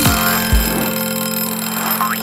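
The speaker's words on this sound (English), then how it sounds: "just as the fire alarm went" A fire alarm rings with a loud, continuous electronic bell tone that holds steady throughout, with a couple of brief low thumps near the start.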